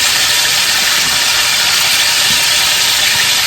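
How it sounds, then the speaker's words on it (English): Steak sears in a very hot pan for a steak and mushroom gravy, filling the clip with a loud, steady, close sizzling hiss that never lets up, with no voices. "you can tell that pan is really sizzling right now"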